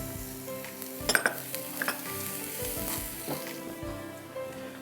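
Onion and garlic sizzle in a pan as a utensil stirs and scrapes through them, producing a steady frying hiss broken by a few sharp clinks against the pan.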